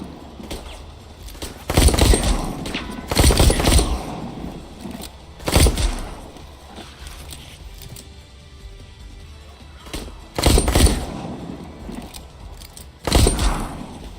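Gunshots from a gun in a video game: five or six separate loud shots spaced a few seconds apart, each a sharp broadband crack standing out over a quiet background.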